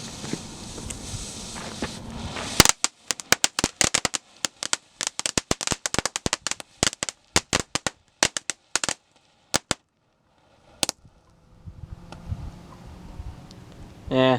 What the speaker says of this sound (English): Next up we have Happiness Fountain by Boomer Fireworks.